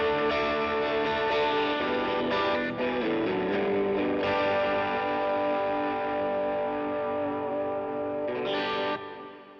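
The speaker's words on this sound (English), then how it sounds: "let's go to the Double Super OD version 4, and the first channel sounds like this" A guitar through the first channel of a Double Super OD version 4 overdrive pedal: a continuous lightly driven passage of ringing chords and notes, full and sustained, fading out near the end with no voices.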